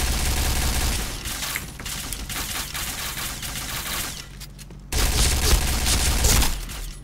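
Rapid bursts of gunfire in the online shooter Point Blank, loud clustered shots and automatic fire over a constant game background, with a brief lull before a sharp resumption.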